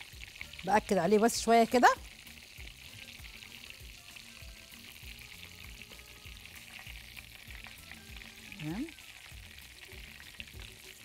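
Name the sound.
breaded chicken breast (pané) frying in oil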